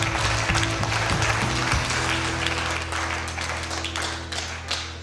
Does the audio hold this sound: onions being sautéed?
no